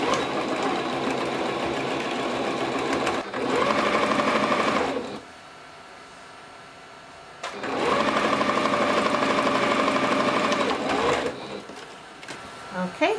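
A sewing machine stitches fabric for a pair of shorts, running in two long, loud, steady whirring bursts with a quieter pause between them.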